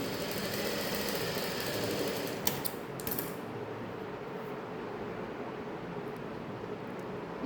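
Sewing machine stitching a saree blouse, a steady continuous mechanical whir with a faint clatter running throughout, at moderate level with no voices.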